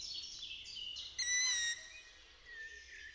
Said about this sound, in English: we can see a tawny owl resting after a night of hunting, and a young long-eared owl